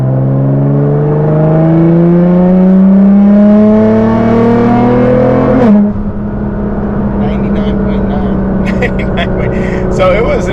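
Nissan GT-R fitted with Boost Logic midpipes cruising at about 75 mph, a loud sustained engine drone that climbs in pitch, drops sharply partway through, then settles into steady road noise under faint voices.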